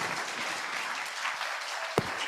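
Sustained applause from an audience at a session, dense steady clapping filling the room throughout, with one sharper clap standing out near the end.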